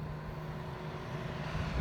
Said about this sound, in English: there's a cement truck coming through right now.